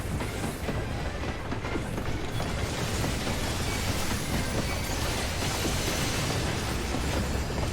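A train arriving in Final Fantasy XIV, a loud continuous rumble with rhythmic clattering wheels and metallic mechanical noise throughout, no voices.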